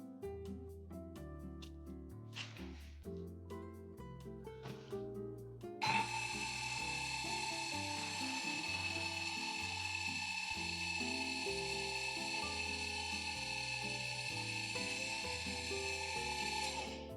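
An E55 coffee grinder switches on about six seconds in and runs continuously, a steady, fairly loud high-pitched motor whine with a grinding buzz, after a few quiet handling sounds; nobody speaks.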